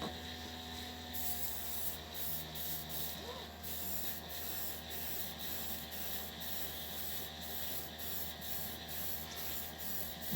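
A small compressor-fed spray gun hisses steadily and close while applying a thick coat of paint, one continuous spray of air with slight pulsing and no pauses.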